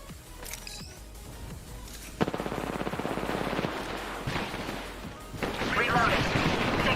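Rapid automatic gunfire in a sci-fi shooter video game, a fast rattling burst lasting a couple of seconds amid game effects, followed by a swelling rush of noise, with voice chatter in the mix.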